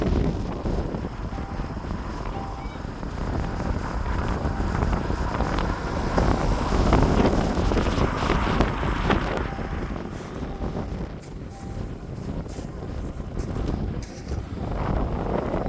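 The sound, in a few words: wind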